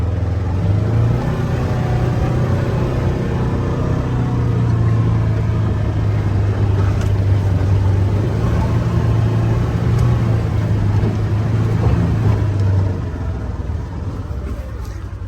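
A vehicle crawls over steep, rocky dirt terrain with a low, steady engine rumble and faint crunching of rocks, near and continuous for most of the clip, then easing off toward the end.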